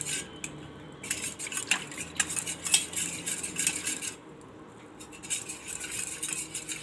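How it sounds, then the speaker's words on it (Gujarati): Flour is added bit by bit and stirred into a Bombay Karachi halwa mixture, with repeated metallic scraping and clinking of a spoon against a pot in an uneven rhythm, close and clear, with a brief lull midway. "તો આપણે આ થોડો થોડો લોટ આમાં નાખીને આ રીતે આમ હલાવી લેવું"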